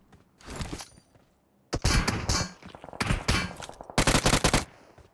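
Gunfire in the mobile battle-royale game PUBG Mobile, bursts of rapid automatic shots in clusters separated by short pauses, loud and close, with a faint thud between volleys.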